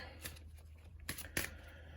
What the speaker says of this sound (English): I'm going to start shuffling for your energy and the lover's energy